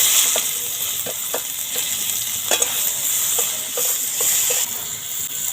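Chopped onion fries in hot oil with cinnamon, cardamom and black peppercorns for a soybean curry, giving a loud, continuous sizzle broken by a few soft scrapes of stirring.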